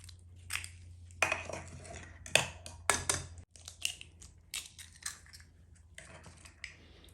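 Two eggs are cracked into coconut cake batter and mixed, with close, sharp clinks and taps of a utensil against a bowl coming in uneven bursts over a faint low hum.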